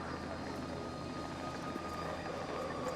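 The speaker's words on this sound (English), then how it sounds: "Sir, chopper needs to refuel." A helicopter drones in flight, a faint, continuous engine and rotor hum running steadily throughout with no voices over it.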